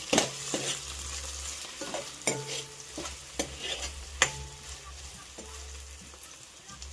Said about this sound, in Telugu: ఒకసారి తిప్పుకుందాం.